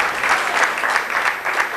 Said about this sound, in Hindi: मैं चाहूंगा कि हम इनका स्वागत भी जोरदार तालियों से करें